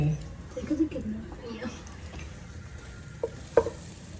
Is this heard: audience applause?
no